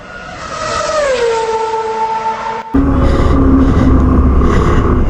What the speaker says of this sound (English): Let's see how this bike performs on the road and go out for a ride review.